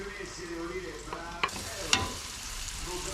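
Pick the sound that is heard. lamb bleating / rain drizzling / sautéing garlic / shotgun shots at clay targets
sautéing garlic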